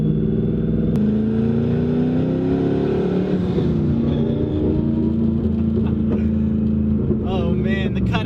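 A twin-turbo 2011 Ford Mustang GT V8 rumbles and revs with dual exhaust cutouts open, a deep continuous roar building and easing, with talk faintly beneath.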